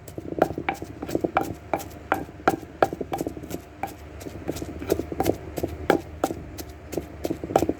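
Tai pla curry paste being pounded in a mortar: a steady run of sharp, close knocks repeating roughly every third of a second for the whole stretch, with no voices.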